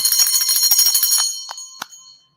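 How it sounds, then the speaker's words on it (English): A bell rings during a live real-estate wholesaling broadcast: a dense cluster of rapid bright rings for about a second and a half, then two separate single strikes decaying as the sound fades out. "Ring the bell."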